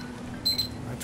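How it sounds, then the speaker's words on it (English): A timer alarm goes off in short, loud electronic beeps, two quick bursts near the middle and another starting at the end, over a quiet background. "That's the timer I set."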